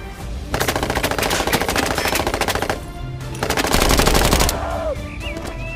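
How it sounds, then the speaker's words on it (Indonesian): A toy gun fires loud, rapid machine-gun bursts of electronic rattling, two long sustained volleys close to the microphone, followed by a quieter tail. "Wow, senjata mainan."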